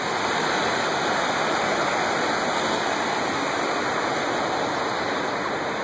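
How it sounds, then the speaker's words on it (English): The Conestoga River in the Cohutta Wilderness flows at a trail intersection, a steady, dense rushing of water heard close and constant without a break, with no voices. "So this is the intersection of the Conestoga River"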